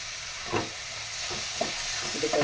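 Tomatoes frying in a pan for kara kuzhambu with salt and turmeric added, giving a steady low sizzle with a few soft scrapes of stirring, close and alone with no voices.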